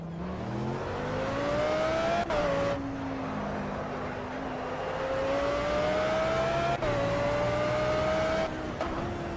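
Racing car engine in a video game, a sustained loud whine rising and falling in pitch through gear shifts, with abrupt drops at each change and steady road noise underneath, no talk.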